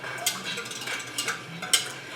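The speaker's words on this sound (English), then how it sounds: "now I'm going to stir that in real good" A spoon stirs L. reuteri culture into milk, giving a few soft clinks and scrapes at a steady, unhurried pace, close by and fairly quiet, with no talking.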